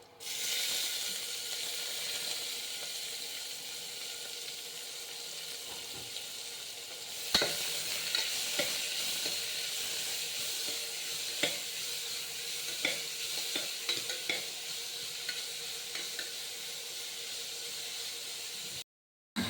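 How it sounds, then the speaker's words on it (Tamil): Onions sautéing in a pan for a pilau rice dish: a continuous broad sizzle with occasional scraping and clicking stir strokes scattered through, near and moderately loud, with no talking. "இப்போ நம்ம வெங்காயத்தை போட்டுக்கலாம்"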